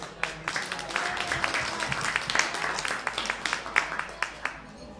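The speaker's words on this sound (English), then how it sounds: "Let's all give you yourself a big round of applause." Audience applause at an investment and financing forum in Manhattan, a room of scattered hand claps with individual sharp slaps standing out, steady and moderately loud over a murmur of voices.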